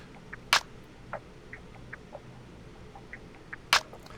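Sampled claps sit spaced far apart in an FL Studio beat, two bright sharp hits several seconds apart over soft, sparse ticking percussion.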